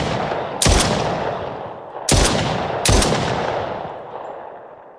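Three loud gunshot blasts from a weapon in the video game Meteoric, each with a sharp crack and a long decaying tail, the second and third coming close together with no talk.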